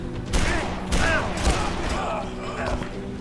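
Gunfire in the video game Dead Island, several loud close shots in quick bursts over a din of game sound, with a voice speaking over it.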